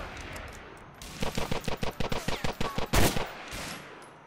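Rapid rhythmic bursts of gunfire in the GTA The Ballad of Gay Tony video game, about a dozen evenly spaced shots in quick succession followed by one louder, heavier blast, with faint background noise and no talk.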